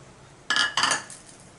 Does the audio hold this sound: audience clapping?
no